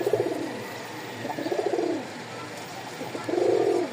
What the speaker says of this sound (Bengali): এই হচ্ছে 2 জোড়া কবুতর